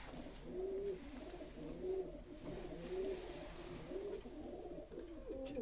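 A racing pigeon coos softly in a repeated rhythm, about five low murmuring calls spaced roughly a second apart, faint and close with no other sound over it.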